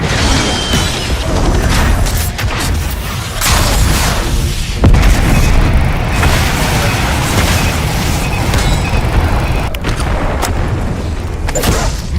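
A Semtex grenade goes off in Black Ops 6 Zombies amid constant loud battle noise, with a heavy boom and crashing debris layered over ongoing gunfire and mechanical clatter.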